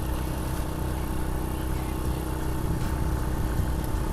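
An old Honda Astrea Grand motorcycle climbs uphill in fourth gear on gentle throttle, its engine a steady, low, rumbling drone heard close and continuous throughout.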